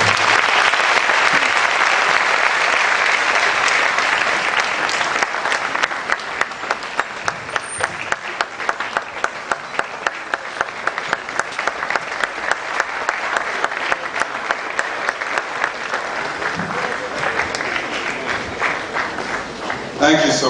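Audience applauding after a talk on sudden death, a long sustained burst of dense clapping that settles into a more rhythmic pattern midway, with voices occasionally rising above it.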